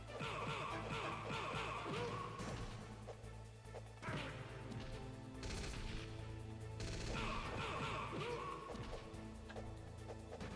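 Grenade blasts and gunfire from the Metal Gear Solid game's Shadow Moses Incident, heard as loud, dense bursts of crashing, whacking impacts. Chaotic battle sounds run continuously over a steady low game background, with a short lull in the middle.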